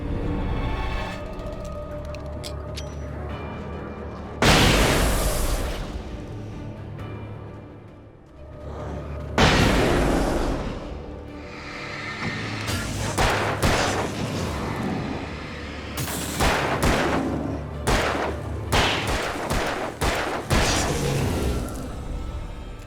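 Flashbang grenades going off in the video game Alan Wake, a series of loud broadband bursts and bangs at irregular intervals over a continuous low background rumble, with several sharp cracks clustered toward the end.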